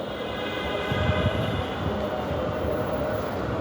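A metro train rumbles steadily at Shahbag metro rail station, Dhaka, a deep continuous drone with a faint metallic hum above it.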